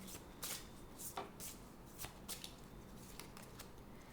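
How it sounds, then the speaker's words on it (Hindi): Oracle cards are shuffled and drawn by hand during a tarot reading, producing a close, soft, steady riffling with repeated sharper flicks at roughly half-second intervals. "एक शिवा ऑरिकल से भी कार्ड लेते हैं"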